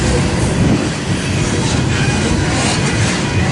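A BNSF westbound freight train rolls past loud and close, its wagons grinding and rumbling continuously with clickety-clack wheel beats and a faint squeal, no voices over it.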